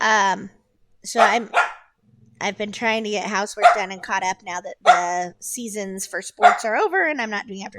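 Several dogs bark in the background, mixed under steady close conversational speech that runs through nearly the whole stretch, with only brief pauses.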